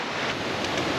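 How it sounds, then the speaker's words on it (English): A river rushes and churns with a continuous broadband wash of flowing water, loud and close, mixed with some wind buffeting on the microphone. "Here's my river that I was hoping to reach."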